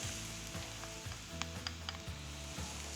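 Garlic sizzles in a pan alongside artichokes and onions, a steady close frying hiss with a low stove hum underneath and a few sharp utensil clicks.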